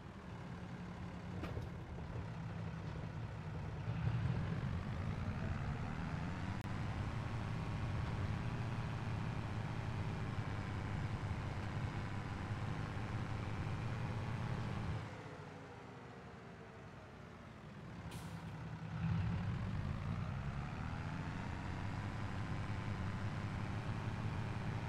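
A farm vehicle in Farming Simulator 22 drives with a steady low engine drone that stays constant, dips briefly in the middle and then returns, with faint higher tones over it.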